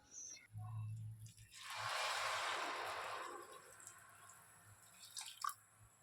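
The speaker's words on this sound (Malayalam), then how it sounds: "ഒരു നാനൂറ് എം എൽ ചൂടുവെള്ളം ഒഴിച്ചു കൊടുക്കാം" Hot water being poured into beetroot semiya payasam in a pan, a soft rushing pour rising then fading over a few seconds, with a few small clinks and drips around it.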